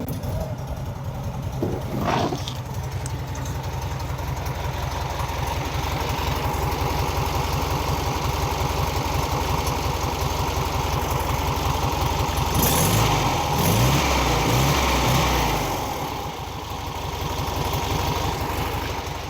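Original engine of a 1957 Volkswagen oval window Beetle idling steadily with a continuous low rumble, a brief louder burst of activity near the middle, close by and without talk.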